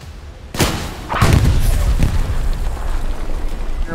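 Gunfire and explosions hammer a tank in a combat video game, a sharp blast followed by rolling booms and continuous rumbling bursts, close and loud.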